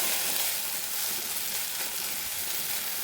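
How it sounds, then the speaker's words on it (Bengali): Ginger garlic paste fries in a hot pan with a steady, dense sizzle that holds at an even loudness throughout, close up and with no voices. "ভালো করে একটু ভেজে নেব"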